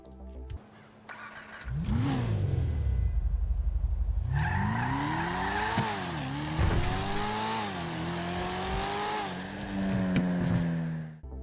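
A Corvette-style muscle car in GTA V revs and drives up through its gears, the engine note rising and falling in several loud surges, with a brief tire squeal; no one talks.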